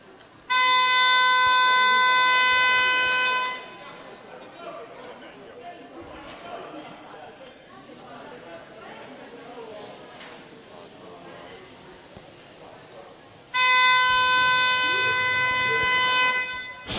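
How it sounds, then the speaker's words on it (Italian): Loud arena siren at a roller hockey national Under 23 finals, sounding a steady harmonic tone for about three seconds, then arena chatter and crowd noise, then a second long siren blast near the end calling the teams back onto the court. "Sirena che richiama in campo le squadre, si ritorna a giocare per gli ultimi 2:51."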